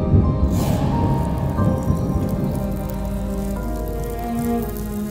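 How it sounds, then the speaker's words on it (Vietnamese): Steady heavy rain pours down, a dense wash of drops on surfaces throughout, with a low rumble underneath. "Có tiếng sấm rền, sắp có một cơn mưa lớn rồi."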